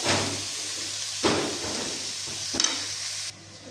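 Tomatoes go into a pan of frying garlic, a steady hiss of sizzling broken by a few sharp clattering stirs and scrapes, the frying noise dropping lower near the end.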